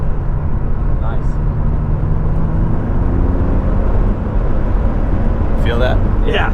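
Interior ride-along in a high-mileage, smashed BMW E36 M3 with a five-speed manual: steady loud engine and road drone with a brief rev change as a downshift is made, close and continuous, with faint voices late on.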